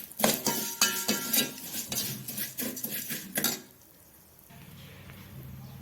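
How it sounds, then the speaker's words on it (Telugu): Vermicelli frying in ghee in a pan, stirred with clinking and scraping of a metal utensil for several seconds, then a quieter stretch of soft sizzling. "అదే నెయ్యిలో సేమియా వేస్తున్నాను. సేమియా కూడా మంచి బ్రౌనిష్ కలర్ వచ్చేదాకా ఫ్రై చేసుకుందాము."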